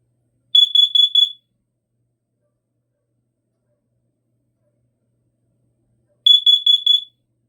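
A smoke alarm under a system test gives two loud, shrill bursts of about four rapid beeps each, separated by a long stretch of silence.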